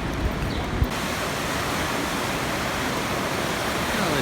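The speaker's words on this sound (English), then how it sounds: "Oh, there's fast water." Fast-flowing water pouring over a weir near a wooden bridge in the Lucerne area, a steady broadband rush that runs loud and unbroken throughout, with no voices over it.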